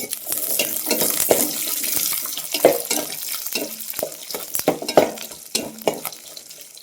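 Onions, garlic, fenugreek and curry leaves sauté in a hot pan, sizzling and crackling as a spoon scrapes and stirs in irregular strokes, close up with no voices.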